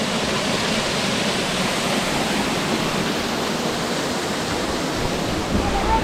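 Steady broadband roar of a waterfall at a beautiful backwoods spot, continuous and fairly loud with no break, heard alone without voices.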